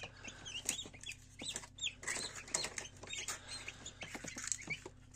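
Newly hatched chicks from an egg incubator, a busy chorus of high, rapid peeping and cheeping close by with small rustling movements, continuous throughout with no speech.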